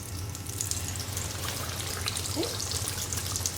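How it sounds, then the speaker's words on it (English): Chicken frying in about an inch of oil, a steady hissing bubble with a low hum beneath, close and unbroken, with a brief spoken word over it. "And we let it fry"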